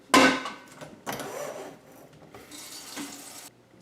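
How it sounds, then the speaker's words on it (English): Tap water runs into a large cooking pot being filled with about five quarts for pasta, a close, hissing gush that starts with a sharp splash, surges again, and then shuts off. "So first off, we need to put 5 quarts of water into this bad boy."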